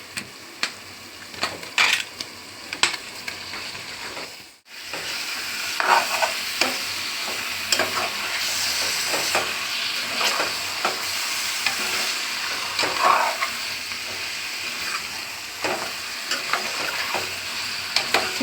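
Chicken pieces stir-fried in a pan for gongura chicken: steady loud sizzling with frequent scraping and clicking of the spatula, one brief pause, then continuous frying resumes.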